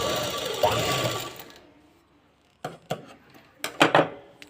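A sewing machine stitches a neck border on a garment, running in a steady whir at first, then stopping and giving way to a few sharp clicks and taps of the mechanism.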